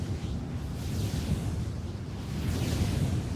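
Offshore wind turbine at the Merkur wind farm in the North Sea, heard as a deep, low rumbling drone with slow swelling whooshes, continuous and close.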